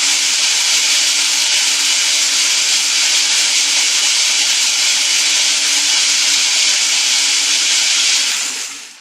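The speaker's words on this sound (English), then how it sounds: "I think I've got a pretty good blender here." A blender runs at full speed on cactus pears, giving a loud, steady whirring roar that holds evenly for about nine seconds before cutting off at the end, with no talking.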